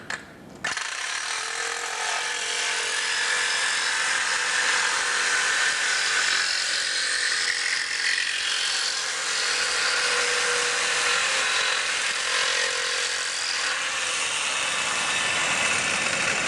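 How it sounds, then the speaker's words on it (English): A mini grinder trims a ragged edge and excess material on a Robin Hood kit-car build, running as one continuous, loud, high-pitched whine for the whole stretch after a brief start-up. "So I'll just get the mini grinder and trim that little bit off there."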